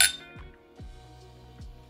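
Drinking glasses clink together in a toast before a tasting, a bright chime at the start followed by faint, ringing taps that fade out, with no talking.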